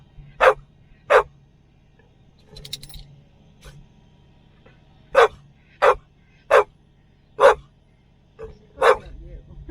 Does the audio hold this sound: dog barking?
yes